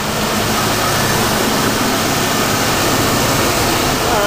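An old 305 engine idles after an exhaust leak was sealed with RTV, giving a loud, steady, unbroken hum that stays level from start to finish.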